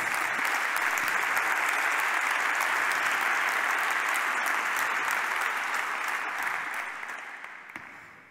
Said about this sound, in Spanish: un fuerte aplauso para Ricard, premio al coordinador de licenciamiento